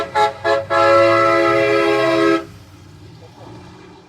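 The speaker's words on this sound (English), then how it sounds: "We're also hearing several car honks from cars passing the protests" Passing cars honk at a street protest outside a school district building: two short toots followed by a long, loud sustained horn blast of nearly two seconds, then fading traffic noise.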